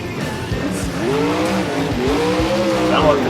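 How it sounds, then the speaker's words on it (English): A monster truck stuck in first gear at a stadium event revs its engine in rising and falling sweeps, loud and close, with tire noise and crowd din around it. "Sound like the truck stuck in first gear for a second, but now he's got it back rolling."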